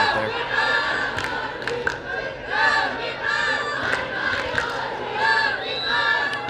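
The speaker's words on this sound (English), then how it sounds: "the crowd's getting quite loud now" Loud crowd at an ultimate frisbee championship with many Australian fans, sustained cheering and shouting with rising swells and scattered sharp yells throughout.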